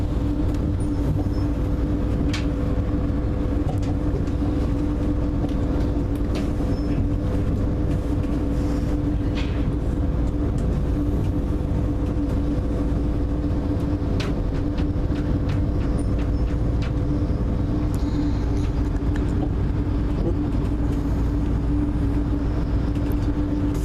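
Interior of a moving passenger train near Lancaster and Carnforth, a loud constant rumble with a steady hum, with occasional rail clicks and clunks scattered through the ride.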